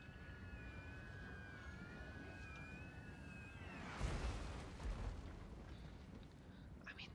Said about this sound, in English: And there goes the mortar.